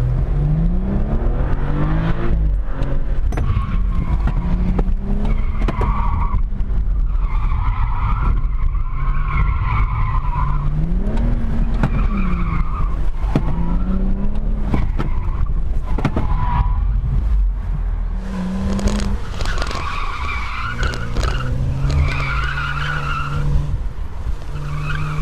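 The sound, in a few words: autocross car launching and skidding tires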